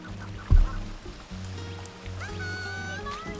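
In-game bird in Super Mario Odyssey's Seaside Kingdom lets out honking, duck-like squawks over background game music, with a sharp low thump early on.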